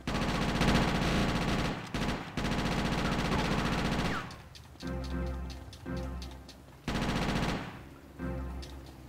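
A Micro SMG fires in GTA: Chinatown Wars in loud, continuous rattling bursts, broken by short pauses and then several separate volleys in a mid-intensity game mix.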